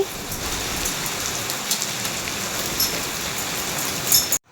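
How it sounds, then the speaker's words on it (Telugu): Hail falling during a heavy storm, small ice pellets pattering densely and steadily like hard rain on surfaces, loud and continuous with no voices, cutting off abruptly at the end. "మామూలు వాన కూడా కాదు వడగళ్ళ వాన పడుతుంది"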